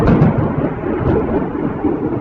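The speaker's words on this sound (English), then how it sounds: "I hope you can hear that thunder." Thunder rolling in a storm, a deep continuous rumble with a few swelling surges, loud and fairly close throughout.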